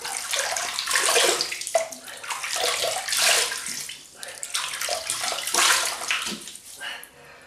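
Hot water splashes and sloshes from a sink as a face is wetted before a wet shave with Arko soap, a steady close splashing with repeated scooping surges throughout.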